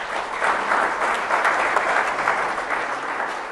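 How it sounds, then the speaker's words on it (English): A steady round of audience applause at a school superintendent candidate forum, dense, even clapping from a full room that holds at one level throughout. "Let's have a round of applause."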